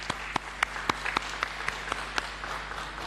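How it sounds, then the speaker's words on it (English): Audience applause at a Pakistani airport ceremony, a scattered patter of hand claps with a few sharper, louder claps standing out over a steady room noise, moderately near and without talk. "A round of applause for them."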